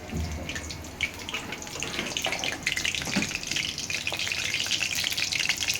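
Tap water runs steadily as whole spices such as bay leaf are rinsed in a home kitchen, a close, continuous splashing hiss with faint clinks of the spices and container.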